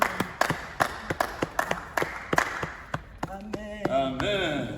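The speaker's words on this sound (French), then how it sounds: "Applaudissons pour le Seigneur" A church congregation claps in a steady rhythmic beat at a deliverance service, sharp near claps spaced evenly before voices begin singing or calling out under the last few claps.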